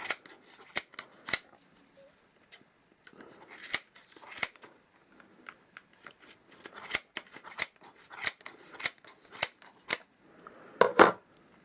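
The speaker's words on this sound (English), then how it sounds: "You cut round this recessed edge here, this recessed groove, little valley, perfect for your scissors." Crisp, irregular snips of scissors cutting through yarn around the groove of a Clover pom-pom maker, many sharp clipping sounds in uneven bursts, close up with no talking.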